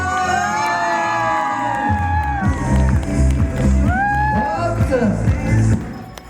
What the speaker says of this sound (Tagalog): mas malakas na palakpakan, ladies and gentlemen! Palakpakan may kasamang sigawan!